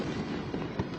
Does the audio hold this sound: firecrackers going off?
yes